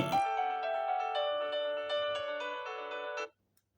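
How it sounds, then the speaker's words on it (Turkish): A mobile phone ringtone plays a steady melodic ring for about three seconds, moderately faint, then cuts off abruptly into silence. "bir taraftan da telefonun sesini kısmamışım. Telefon çalıyor her neyse."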